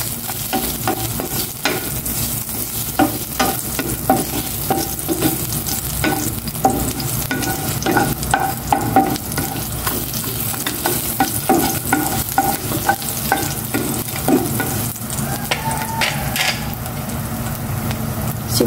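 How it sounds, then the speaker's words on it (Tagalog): Garlic sautéing in hot cooking oil, a steady close sizzle and crackle with repeated scraping and stirring clicks from a utensil against the pan throughout. "Gisa ko na itong bawang."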